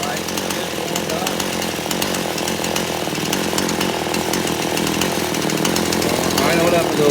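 A warmed-up chainsaw engine runs steadily during carburetor adjustment, giving a loud, continuous buzzing drone that holds for the whole stretch and rises slightly near the end.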